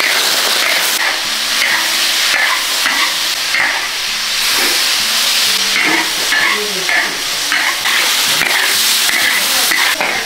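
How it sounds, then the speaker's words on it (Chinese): Sword beans stir-fried in a wok crackle and sizzle loudly and continuously for several seconds, with repeated scraping and tossing sounds close by. "我们先炒一个刀豆"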